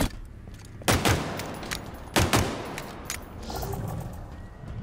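Sniper rifle shots in the Halo Infinite campaign, two loud sharp blasts about a second apart followed by a third weaker crack, each ringing out over continuous game background noise.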